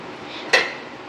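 A metal kadai set down on a kitchen stove before deep-frying gulab jamun, one short clank with a brief metallic ring over quiet background.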